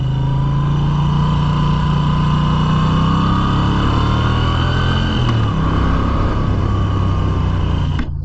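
A 2025 Moto Guzzi V7 Sport motorcycle climbs a wet uphill road at 3,000 to 4,000 rpm, its engine droning loud and steady close by, with a pitch shift partway through and wind rush throughout.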